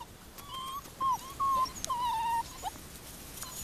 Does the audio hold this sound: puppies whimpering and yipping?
yes